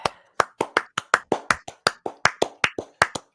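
A small group claps in loose, uneven time, about sixteen sharp dry hand claps close to the listener with short gaps between them and no voices.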